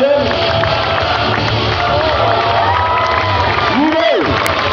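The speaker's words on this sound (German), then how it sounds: "Jubel!" A festival crowd at a knights' tournament cheers and shouts loudly and steadily throughout, with whoops, scattered claps and children's shouts rising over the din.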